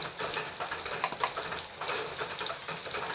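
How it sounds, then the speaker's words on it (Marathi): Cumin, long slivers of ginger and two green chillies tempering in hot oil, a steady dense crackle and sizzle close by with some stirring, no talk. "फोडणी चांगली तडतडू द्यायची"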